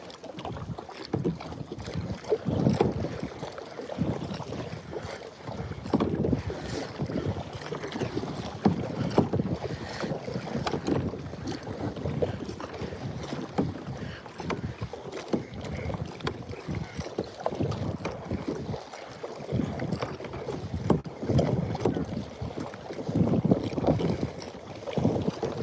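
A fishing kayak is paddled across open water, with rhythmic paddle strokes splashing and swishing steadily under a layer of wind buffeting the microphone.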